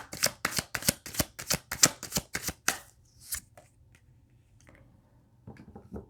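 Tarot cards shuffled in a rapid rhythmic series of about ten crisp riffles, followed by a few softer taps and slides as cards are laid out, close and alone.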